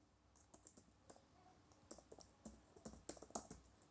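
Someone types on a computer keyboard entering text in Tally accounting software, a quiet, uneven run of crisp key clicks in short bursts, close up with no talk.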